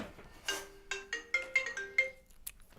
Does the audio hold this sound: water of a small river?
no